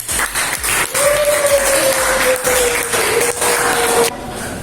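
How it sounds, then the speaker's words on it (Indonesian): A classroom of students claps together for about four seconds, dense and loud, before stopping abruptly, with a faint tone running underneath. "Kasih aplaus."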